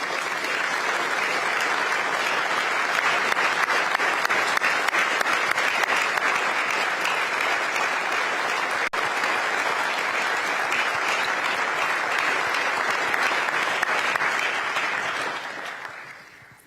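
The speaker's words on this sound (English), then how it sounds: "Would all of our directors and deputy directors please rise for a well-deserved round of applause." A large audience at a city address applauds directors and deputy directors in sustained, dense clapping that holds steady for about fifteen seconds before tapering off at the end, with no talking over it.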